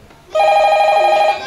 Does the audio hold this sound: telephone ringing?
yes